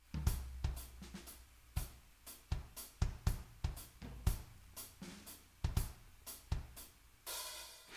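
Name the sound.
drum groove with added bass drum notes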